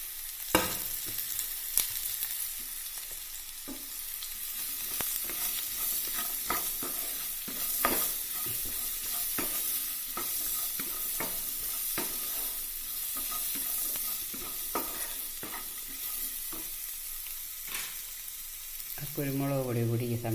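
Long strips of sliced jackfruit seed sizzle steadily in hot oil alongside popping mustard seeds, with close scraping stirs and sharp crackles throughout; a brief voice surfaces near the end.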